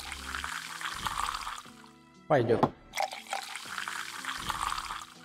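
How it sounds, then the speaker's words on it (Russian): Ale splashes as it is poured into mugs in the tavern video game Tavern Manager Simulator, a bright liquid gush in the middle of the clip between stretches of background music, with a short spoken word afterward. "Наливаем еще Эля сразу по максимуму"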